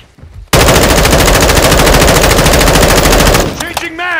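RPK machine gun in Call of Duty: Modern Warfare II firing one long, loud, rapid sustained burst for about three seconds, then cutting off into brief game sounds.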